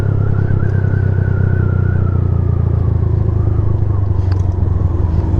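A Dayun Flasher 200cc motorcycle is ridden with a loud, continuous engine drone and road rumble, holding a steady pitch throughout with faint clatter on top.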